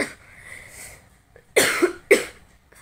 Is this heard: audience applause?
no